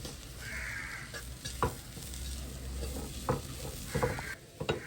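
Dried chilies frying in oil in a pan, a close crackling sizzle with intermittent stirring scrapes and short bursts of spitting, fairly quiet and without speech.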